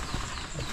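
Water buffalo hooves clopping along a track in a short, busy burst, the steps blurred together under faint background voices.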